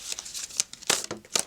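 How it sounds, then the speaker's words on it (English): Tarot cards riffled and shuffled by hand in a few quick bursts, crisp papery flutters with short pauses between, close and alone. "let's shuffle a little bit more"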